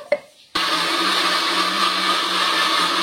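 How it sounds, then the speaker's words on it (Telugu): A kitchen mixer grinder whirs into action after a brief quiet start, blending tomato dosa batter with added water in a loud, steady, close motor drone that holds evenly to the end. "ఇప్పుడు కొంచెం వాటర్ అయితే వేస్తున్నాను చూడండి, వేసుకొని మిక్సీ అయితే పట్టేసుకుందాం"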